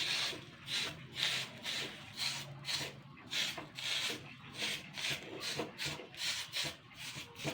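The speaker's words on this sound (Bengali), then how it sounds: "এখানে এই কাপড়টার মধ্যে একটুখানি তেল আর জল নিয়ে নিয়েছি। তো এইভাবে আমি একটুখানি পালিশ করে নেবো সমস্তগুলো" Oil-and-water dampened cloth rubbed over metal chitoi pitha mould cups, a steady run of close, rhythmic scrubbing strokes with no talking.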